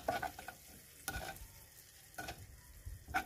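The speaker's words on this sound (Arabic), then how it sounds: "صافي وكنخلط هادو مزيان هكا المكونات مع بعضهم" Paprika being stirred into ingredients in a pan, with a soft scraping and light sizzling texture and a few sharper clinks of the utensil against the pan at the start, middle and end.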